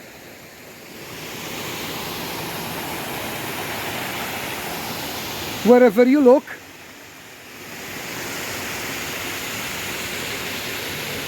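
Steady broadband roar of water pouring from many waterfalls in a park in Edessa, Greece, continuous throughout, with someone speaking briefly in the middle.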